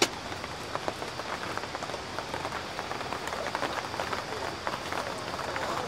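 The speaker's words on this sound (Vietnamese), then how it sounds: "Mưa rồi, lại mưa rồi." Steady rain pours down outdoors near a fish pond, a dense continuous patter of drops on surfaces that stays even and moderately loud throughout.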